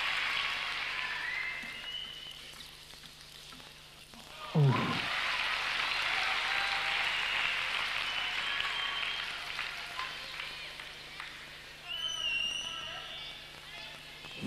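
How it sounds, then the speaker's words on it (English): A crowd at a 1996 World Cup table tennis match between Waldner and Samsonov bursts into sustained applause, a dense wash of clapping that swells after a sharp thump and holds for several seconds, with a commentator talking over it. "And the crowd loved it."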